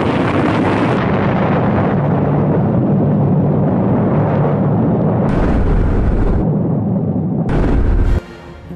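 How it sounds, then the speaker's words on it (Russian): The first Soviet nuclear test, a 22-kiloton blast at the Semipalatinsk test site in August 1949, comes through as a loud, sustained broadband roar that rumbles steadily for about eight seconds, then drops away, with no voices. "Взрыв!"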